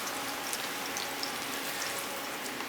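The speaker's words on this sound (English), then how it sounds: "it has started to sizzle immediately, you know you've done it perfectly" Mushrooms sizzle in hot oil in a pan for risotto, a steady dense crackle heard close and alone.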